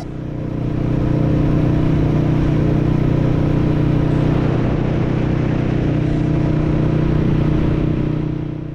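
A Royal Enfield Classic 350 motorcycle runs on E10 petrol during a coastal commute, giving a loud, steady, close engine drone with a deep even hum throughout.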